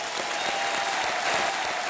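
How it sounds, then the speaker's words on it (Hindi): A studio audience at a TV quiz show breaks into loud, dense applause, a continuous wash of many hands clapping together with no voices over it. "एक बार फिर जोरदार तालियां उनके लिए"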